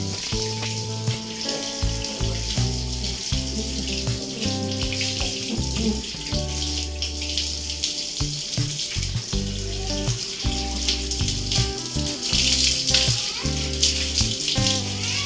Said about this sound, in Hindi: गाड़ी वॉश हो रही है